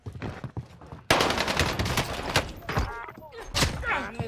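Rapid gunfire in the video game Call of Duty Warzone on Rebirth Island, loud and close in dense bursts, with a player's voice talking over it.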